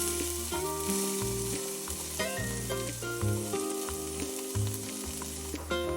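Bamboo shoots frying in smoking-hot sesame oil in a pan, a loud steady sizzle running throughout with bursts of crackle and occasional stirring clatter, no voices.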